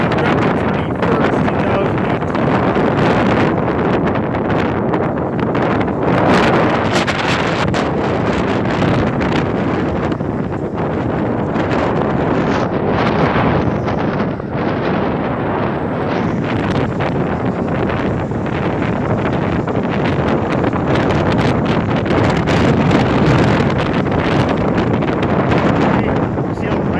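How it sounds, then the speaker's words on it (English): Strong wind from a Kingston snow storm roars continuously and loudly across the microphone, a dense buffeting rush that never lets up for the whole stretch. "See how windy it is."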